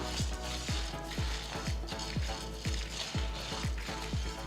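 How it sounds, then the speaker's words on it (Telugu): Cumin seeds, dried red chillies and small pieces of tamarind fry in hot oil, with a steady sizzle broken by regular clinking stirs of a spoon against the pan, no voice heard. "ఇందులో నేను ఒక టీ స్పూన్ జీలకర్ర ఏడు ఎండుమిరపకాయలు ఒక చింతపండు ముక్కని చిన్న ముక్కలుగా కట్ చేసి వేస్తున్నాను వీటిని బాగా వేయించాలి"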